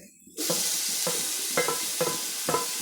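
Curry leaves and ginger hitting hot oil for beef fry: a sudden loud burst of sizzling starts after a brief quiet, then continues steadily with about five rhythmic stirring scrapes, close up and without voices.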